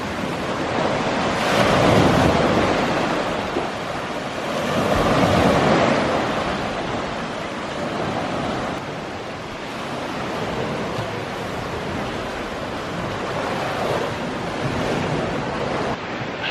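Ocean surf breaking on the beach below Tintagel in Cornwall: steady roaring waves that swell and recede in slow surges, mixed with gusting wind buffeting the microphone, with no talk.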